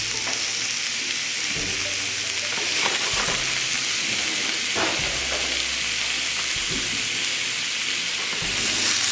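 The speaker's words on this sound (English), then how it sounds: "And we're going to add our steak. And this is just a very quick fry." Steak searing with garlic in a hot pan, a loud continuous crackling sizzle that runs unbroken, with a few soft knocks of the pan, no talking.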